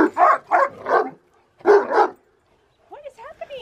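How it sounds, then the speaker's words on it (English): A dog at a family spring barbecue lets out several loud, close barks in quick bursts, then a short pause, more barks, and a softer whimpering yip at the end. "A big loud bark."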